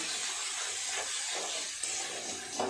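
Ginger and green chili paste with turmeric hisses steadily in a hot pan, a continuous broadband sizzle with a couple of faint clicks near the end, no talking.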